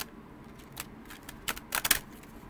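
A deck of oracle cards is shuffled overhand, giving a few soft riffling bursts and then a quick cluster of crisp flicks toward the end, close and quiet.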